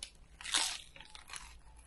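A single crisp crunch up close as someone bites into battered haddock, followed by softer chewing.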